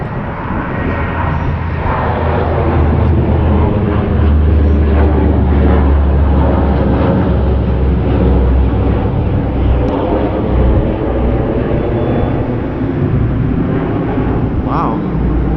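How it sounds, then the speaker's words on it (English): A low-flying military plane passes overhead outside the New York State Capitol in Albany. Its loud, broad engine roar swells and holds for many seconds, swamping everything else close by. "I wasn't expecting a plane to be that low right over me"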